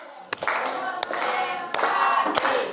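Students in an informatics classroom clap in unison to a called rhythm pattern, sharp group claps in a short sequence with a brief pause between bursts, loud and close in a room.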